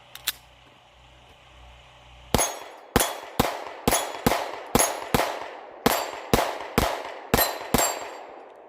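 A Taurus G3c pistol firing steel case ammo, a couple of faint clicks and then about a dozen sharp, loud shots in a fairly even rhythm, each with a short ringing decay.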